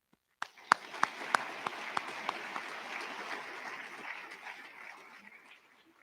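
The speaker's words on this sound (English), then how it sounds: "Please give a round of applause for our incredible music program" A school assembly audience on Veterans Day claps for the music program, opening with a few sharp, distinct claps that build into moderate, fairly thin applause and fade out gradually.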